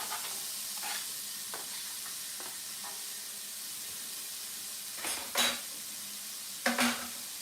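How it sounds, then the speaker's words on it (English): Onion sautés in a pan on a medium burner, a soft steady sizzle broken by spoon stirs and a couple of louder clinks and scrapes against the pan. "I'm going to saute up this onion"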